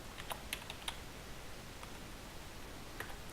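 Keys tapped on a computer keyboard while entering a word in a 2D game-making program, a few quick light clicks clustered early and one more near the end, faint and close over a steady hiss.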